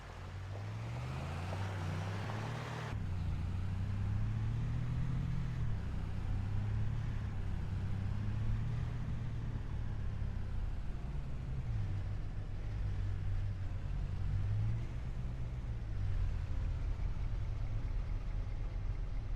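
A vehicle engine in Farming Simulator 25 drives toward town, droning at a steady mid pitch with rising and falling revs as it shifts and accelerates, close and continuous with no talking.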